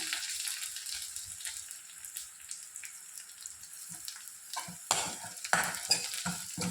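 Vatha narayanan leaves are sautéed in oil for a kulambu, starting as a soft, low sizzle and building to louder, quick scraping stirs of a spoon against the pan toward the end.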